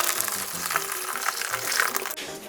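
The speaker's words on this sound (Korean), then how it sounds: "팔팔 끓이지 않고 커피포트에 물을 부어주세요." Water is poured into an electric kettle over sword bean tea for a spring white kimchi broth, a steady broadband splashing that runs continuously at moderate level.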